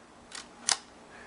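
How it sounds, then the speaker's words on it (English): Shutter of an Eastman 33A view camera lens being cocked by hand with a cable release fitted: two short, crisp mechanical clicks, a softer one then a sharper one, close and isolated in quiet. "Cable release is now there, and we can cock the shutter"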